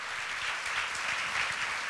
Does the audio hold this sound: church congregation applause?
yes